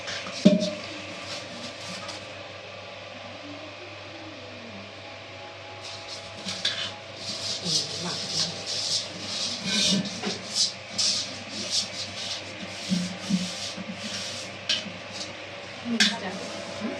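Cooked rice being mixed with ghee in a large cooking pot at home, with scraping and clinking of a spoon against metal in irregular bursts, while people speak nearby.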